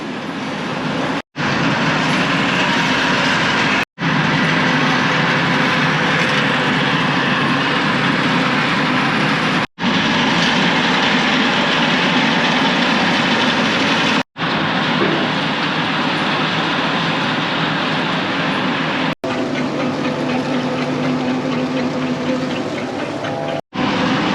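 A forage chopper runs close up on a dairy farm, a loud, dense mechanical roar that holds steady for long stretches, broken by a few abrupt instant cutouts.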